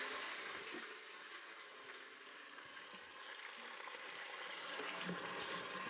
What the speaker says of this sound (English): So you see how this is starting to brown a little bit? We hit it with a bit of water.